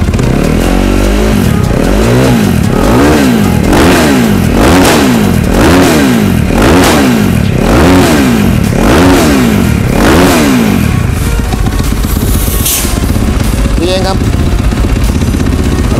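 A Husqvarna 450 supermoto motorcycle engine is revved hard in a rapid series of about ten rising-and-falling throttle blips, loud and close, then settles into a rough idle with mechanical clatter.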